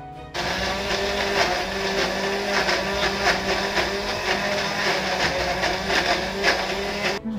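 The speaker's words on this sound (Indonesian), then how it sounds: "Nah, kita blender sebentar sampai halus." Kitchen blender grinding candlenut spice paste for soto, a steady loud whirring drone running without pause for several seconds.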